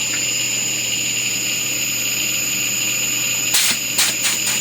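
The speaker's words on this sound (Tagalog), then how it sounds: "Yan, tuloy-tuloy ang andar ng compressor." A Panasonic air conditioner's outdoor unit compressor, recently showing an H11 error, hums steadily at close range with a constant tonal drone, followed by a few short rattling bursts near the end.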